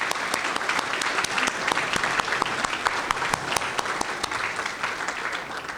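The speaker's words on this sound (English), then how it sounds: "Please give them a big round of applause again" An audience at a State of the City event applauds its sponsors, loud sustained clapping with many distinct sharp claps close by, steady from start to finish.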